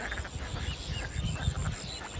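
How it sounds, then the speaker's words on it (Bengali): A flock of ducks clamours from somewhere off to the side near a fishing spot in open countryside, a steady jumble of honks and quacks that runs without pause. "আর ওইদিকে হাঁসের কোলাহল আছে"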